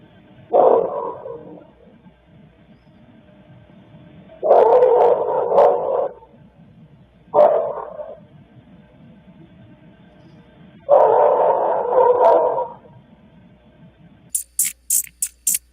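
A dog barks in several bursts of rapid, repeated barks separated by quiet gaps, fairly loud and close, followed at the end by a few short, sharp higher sounds.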